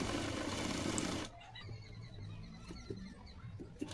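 A sewing machine runs loudly in a brief continuous whir while stitching a ribbon strap onto the shoulder of a blouse, then cuts off, leaving faint soft taps and fabric rustles.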